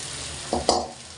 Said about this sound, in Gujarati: હવે આપણે આપણું મિક્સચર એડ કરી દઈશું, જે સાબુદાણા અને સિંગદાણા છે.